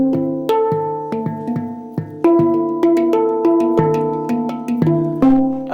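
A steel-pan-like handpan drum is struck with the fingers, ringing out a series of resonant pitched notes with clear attacks and long decaying tones, played up close and alone.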